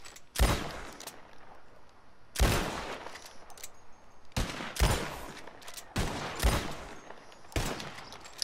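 Video game gunfire rips out in loud, close bursts, around seven separate volleys of rapid shots with short pauses between them and no talk.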